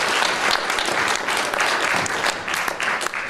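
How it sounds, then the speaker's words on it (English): An audience at a talk claps steadily for three expert speakers, a dense round of applause that holds for a few seconds at even strength. "So I'd like to just give a round of applause to our three experts."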